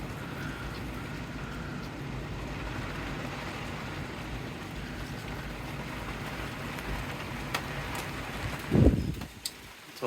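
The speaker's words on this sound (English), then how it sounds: "it's absolutely belting it down out here." Heavy December rain pours down just outside an open door, a steady dense hiss close by, with a thump and some handling noise near the end.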